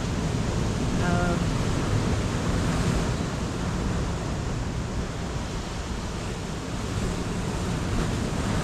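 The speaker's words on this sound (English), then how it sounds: "there's certain sets of waves that have certainly filled my boots" Ocean swell surges and breaks onto rocks at a rock fishing spot, a continuous loud wash of surf with wind rumble and no pauses.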